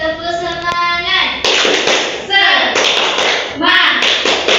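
Schoolchildren standing in an Indonesian classroom clap a rhythmic chant together, bursts of group clapping mixed with chanted voices for several seconds.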